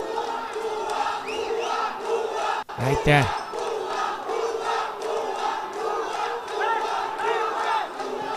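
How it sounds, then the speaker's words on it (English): Supporters' crowd at the SAFF U-16 Women's Championship 2024 final in Nepal, Bangladesh versus India, cheering and chanting steadily throughout, with a brief louder surge near the middle and a commentator speaking over the roar. "Just look at the crowd."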